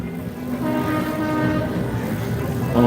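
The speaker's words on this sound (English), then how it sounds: "People in the ride have loud horns, and then cars, of course. Everybody's honking." Loud, sustained horn tones blare continuously from a ride and surrounding cars, layered into a dense, steady honking wash with a low rumbling background.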